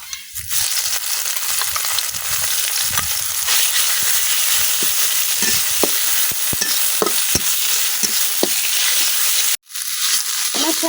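Chopped onion and red amaranth greens fry in hot oil, a steady close sizzle with scattered stirring clicks and scrapes throughout, breaking off briefly near the end.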